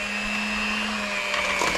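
An electric mixer whirs steadily at close range as it creams butter and sugar in a bowl, a constant motor hum with slight scraping near the end.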